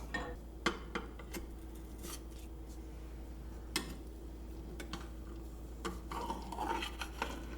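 Utensils cutting into a cottage pie, a baked dish of minced meat under a potato topping, with a few faint scrapes and clinks of cutlery against the dish and scattered soft taps, close by and otherwise quiet.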